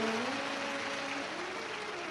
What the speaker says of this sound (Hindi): एक बार जोरदार ताली बजाकर उनका साधु गाओ